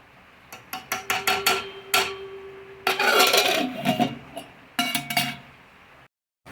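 A pot of cooked rice lifted off a gas stove in a home kitchen and covered with its lid, giving a run of close metallic clinks and clanks of pot and lid, then a sharper scrape and clatter, with no talking.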